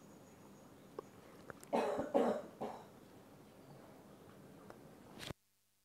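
A person coughs a few times in a quiet room, a short cluster of rough bursts near the middle followed by a softer cough, with faint breathing and small noises around them.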